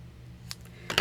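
Scissors snip the end of a ribbon at an angle while making a card, two quick crisp cuts close by, a light one midway and a louder one at the end, over a quiet room hum.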